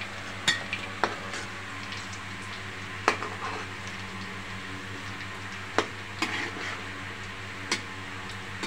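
Beef chunks fry in a pan for Dhaka-style korma, a faint, steady sizzle hissing continuously. Scattered light utensil clicks and taps sound against the pan.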